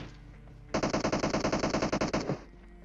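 Rapid automatic gunfire from a mobile battle royale video game, one loud sustained burst of about twenty evenly spaced shots lasting under two seconds, close and alone with no talking.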